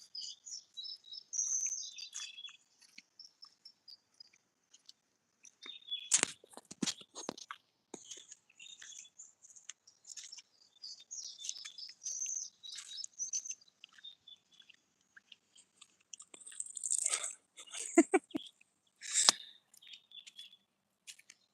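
Small birds chirp and tweet in quick, high bursts throughout, with a few louder calls and faint rustling in between.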